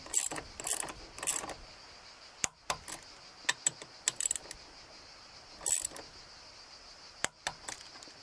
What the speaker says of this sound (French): Petit serrage au couple.